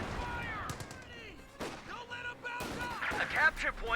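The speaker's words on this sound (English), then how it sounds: "High explosive rounds just got loaded." In a Company of Heroes 2 battle, a tank fires high-explosive rounds amid dense game combat: booming shots and blasts layered with gunfire and other battle effects, continuous and moderately loud throughout.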